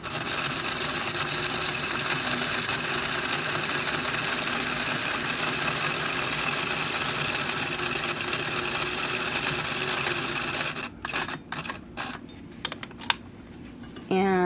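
A sewing machine stitching finger gussets into gloves runs steadily and loudly for about eleven seconds, then stops, followed by a few short handling clicks and rustles.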